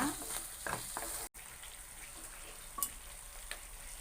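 Pineapple halwa mixture with fried pineapple pieces being stirred in a pan, a soft steady sizzle with scraping strokes of the spoon at a moderate distance, no talking.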